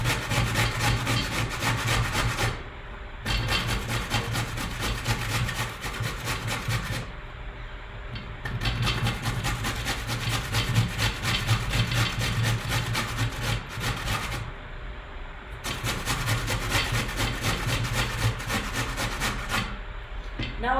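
A golden beet is rubbed against a hand grater in a kitchen, producing loud, rhythmic rasping strokes in three long runs separated by short pauses.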